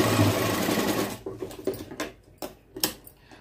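A sewing machine stitches the side seam of a blouse, first as a loud steady run and then in short stuttering bursts as the sewing slows and stops and starts, close up with no talking.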